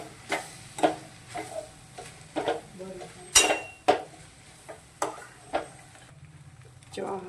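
Boiled noodles are tossed and mixed in a pan for spring roll filling, giving repeated scraping clinks of a utensil against metal in uneven bursts, close up, with faint talk in the background.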